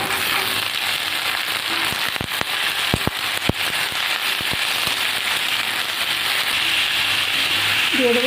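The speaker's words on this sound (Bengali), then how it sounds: "এবার কুমড়োগুলো দিয়ে দেবো।" Pumpkin pieces hit hot oil in a pan with lightly fried bitter gourd, setting off a loud, steady sizzle with scattered sharp crackles and pops throughout.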